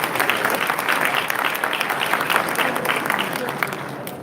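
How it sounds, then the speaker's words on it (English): Audience at an awards ceremony honoring men of excellence breaks into sustained, dense applause, steady clapping that fills the room and tapers slightly near the end. "give yourselves a round of applause"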